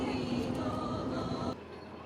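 Diesel locomotive hauling a train on the Šargan Eight museum railway gives a steady droning rumble with a faint tonal hum, heard from inside or nearby, which drops abruptly quieter toward the end.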